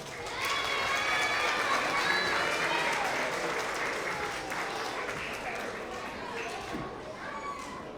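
A school award assembly audience for young TK and kindergarten students claps steadily and loudly throughout, dense continuous applause filling the room with a few children's voices mixed in.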